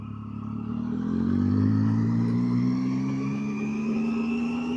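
Motorcycle under way on the road into a town, engine droning steadily and climbing in pitch as it accelerates, close and continuous with wind rush, no talking.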